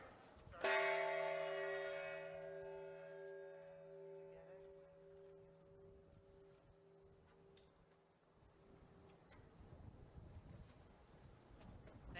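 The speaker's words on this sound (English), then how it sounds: "he will also ring the peace bell" The United Nations Peace Bell sounds at a formal ceremony. A single loud, close strike rings out and its tones hum on in a long, slowly fading decay, with faint wind noise underneath.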